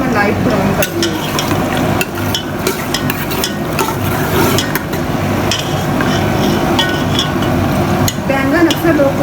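Chopped onions frying in a cup of oil for an aloo baingan curry, a loud steady sizzle with frequent scraping and clinking of a spoon stirring in the pan.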